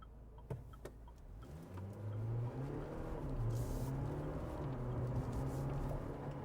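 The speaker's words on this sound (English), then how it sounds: "So what's the acceleration like from the Canon Alpha? Well, let's find out." A 2024 GWM Canon Alpha ute accelerates hard. Its engine note rises through the gears in climbing, stepped tones, heard from inside the cabin after a few quiet clicks at the start.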